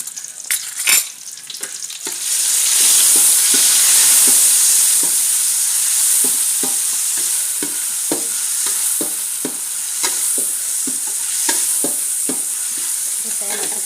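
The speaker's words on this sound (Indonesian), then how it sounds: "Sekarang kita tumis yang mau buat tahu santan ya" Ingredients for tofu and tempeh in coconut milk are sautéed in a pan, a loud, continuous close sizzle with regular spatula scrapes and stirring taps.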